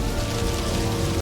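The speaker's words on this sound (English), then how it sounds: "Eventually the rain passes." Heavy rain pours down in a dense, steady roar during a downpour in the wild, loud and unbroken throughout, with no voices.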